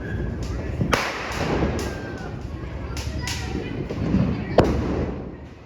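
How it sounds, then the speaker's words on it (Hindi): Sharp firecracker bangs pop repeatedly at a distance in a park during Diwali, scattered irregularly over a steady background of crowd noise and voices. "अलग अलग ग्रुप ऑफ पीपल पटाखे फोड़ रहे थे पार्क में"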